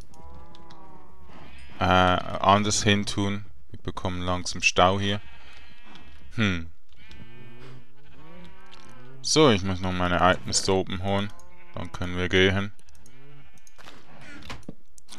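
Sheep bleat now and then in the blocky Minecraft world, short animal calls mixed in with someone talking steadily over game sounds.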